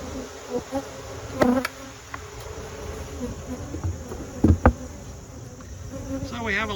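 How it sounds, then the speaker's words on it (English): Honeybees buzz in a steady drone close by, with a few louder bursts as individual bees pass near. "So we have a lot of displaced bees right now"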